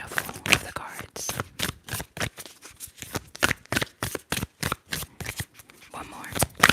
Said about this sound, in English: I love to hear the shuffle of the cards.